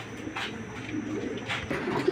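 Racing pigeons coo softly and repeatedly in a loft, the low throaty calls overlapping steadily at close range.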